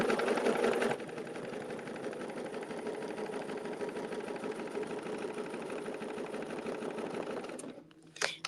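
A sewing machine hums in a steady, even run of stitching, close and moderately quiet, then stops near the end with a few faint handling clicks.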